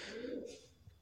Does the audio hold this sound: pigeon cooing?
yes